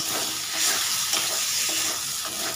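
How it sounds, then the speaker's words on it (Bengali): Fried bottle gourd pieces being stirred with spices in a kadai, giving a steady close sizzle and hiss of frying broken by soft scraping strokes of the spoon, with no talk over it. "মশলার সাথে লাউটাকে নেড়ে নিচ্ছি"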